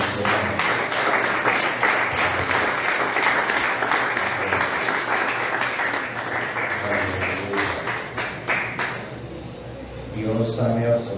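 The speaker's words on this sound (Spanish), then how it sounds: "Démosle un aplauso a nuestro Señor." A church congregation claps and cheers in sustained applause for several seconds before it tapers off, after which a voice begins speaking over the fading room noise.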